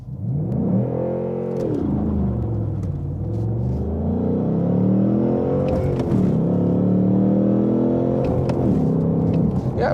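A Ford Mustang Mach 1 with a manual gearbox and 5.0 V8 launches hard with some wheel spin. A loud, close engine roar rises through the revs, drops at gear changes and climbs again in a continuous throaty pull.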